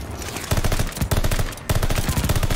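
Dense automatic gunfire fills a Call of Duty Vanguard match, with rapid bursts rattling continuously and two short breaks, loud and close, and a voice faintly underneath.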